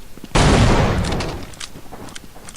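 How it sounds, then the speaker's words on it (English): A scripted explosion in the video game Final Frontier goes off with a sudden loud blast, then a long rumbling decay as debris settles, followed by a few smaller scattered pops. "the scripted explosion killed the enemies behind the wall"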